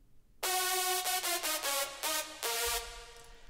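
Hardstyle lead synth layer in FL Studio built from a heavily detuned saw wave, playing a short staccato riff of bright, buzzy, thick notes with sharp attacks and a longer held final note, alone and clean.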